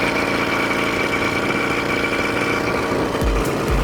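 A small petrol engine on a motorized bicycle drones steadily at close range, a continuous buzzing rattle with a couple of brief bumps near the end.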